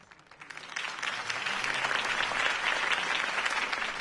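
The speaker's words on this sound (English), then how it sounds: "If only Mr. Wayne, my campaign's largest backer, could have heard that applause" Crowd applause after a campaign speech in a Batman video game, a steady wash of clapping that swells in over the first second and holds loud and dense without any talk.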